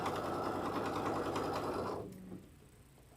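An embroidery machine runs a folding stitch on quilt fabric with a dense, steady mechanical whir for about two seconds, then stops abruptly, leaving faint room noise.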